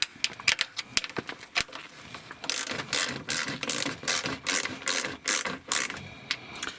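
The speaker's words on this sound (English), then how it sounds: "These are 8mm bolts, 8mm head, just using the small 1/4-inch ratchet on them." A small 1/4-inch ratchet works 8mm bolts off protective panels under a 2006 Mercedes E350 (W211), giving rapid close clicking bursts in irregular runs with brief pauses between strokes.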